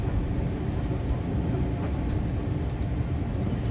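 Inside a JR Central 311 series electric train running between Tarui and Ogaki, a steady, even rumble of wheels and motors fills the cabin as the train nears its Ogaki terminus.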